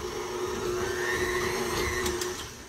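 Electric hand mixer running on low speed, creaming half a cup of shortening in a bowl; a steady, continuous motor whir with a tonal hum that holds level throughout and stays close.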